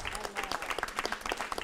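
A brief burst of audience applause at an evening event, dense clapping from a crowd with voices mixed in, loud and steady for under two seconds.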